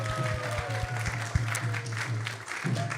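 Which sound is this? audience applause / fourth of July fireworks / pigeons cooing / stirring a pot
audience applause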